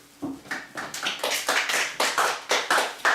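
A classroom of students claps in a rhythmic unison beat, about a dozen sharp, evenly spaced claps that grow slightly louder, with no talking over them.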